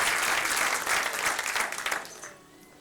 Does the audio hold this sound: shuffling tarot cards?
no